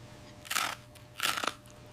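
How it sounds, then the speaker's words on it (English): Two crisp crunches of crunchy food being chewed, close and distinct, separated by a brief pause over a low steady background hum. "I love the crunchy sound."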